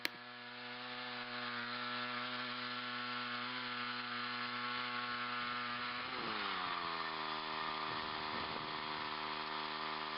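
A Woodland Mills 122 sawmill mills a log with a steady, close engine drone that bogs down in pitch partway through as the blade takes the load, then runs on.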